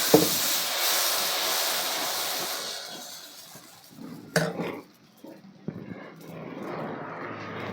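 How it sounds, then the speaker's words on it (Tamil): Kambu (pearl millet) dosa batter poured onto a hot pan, giving a loud, steady hiss that fades over several seconds, followed by a few faint clicks and light handling sounds. "தோசை ஊற்றுறோம் பாருங்கள்"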